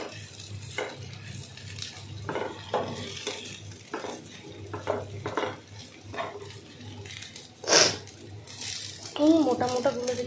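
Spring onions stirred and fried in a pan, with repeated spatula scrapes and clinks of metal cookware over a faint sizzle, close, with occasional talking mixed in.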